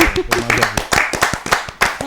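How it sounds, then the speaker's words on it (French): A television studio crew on set applauds themselves, close, sharp hand claps in an uneven rhythm with a voice speaking over them. "Oui, il faut s'applaudir"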